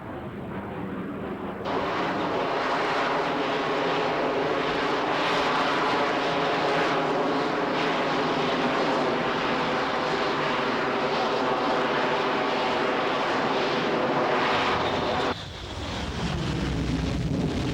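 A Harrier vertical-takeoff jet roars loud and steady for most of the stretch, a continuous broad engine wash with wind buffeting, then drops off abruptly near the end.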